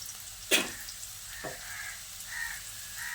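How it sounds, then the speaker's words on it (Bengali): Pumpkin and potatoes frying in a pan while being stirred, soft sizzling under a couple of sharp scraping clacks of the spoon against the pan, close and fairly quiet. "কুমড়ো দিয়ে আলুর সঙ্গে আরও কিছুক্ষণ নেড়ে চেড়ে মিশিয়ে নিয়ে"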